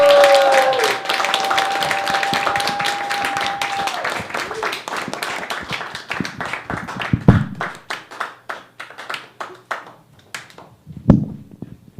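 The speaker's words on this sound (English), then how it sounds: "can you give a loving round of applause to the man, Yoel!" An open mic stand-up comedy crowd claps for the next comedian. A dense burst of applause thins out over several seconds into scattered individual claps, with a voice speaking briefly near the start.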